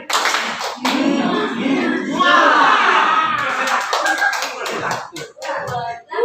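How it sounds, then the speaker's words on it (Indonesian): Seminar audience on a leadership transformation project clapping hands together in a rhythmic cheer, loud and fairly close, with voices mixed in throughout. "Oke, tepuk tangan kasih sayang."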